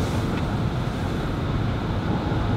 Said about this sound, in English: It's so draining, fighting cold wind.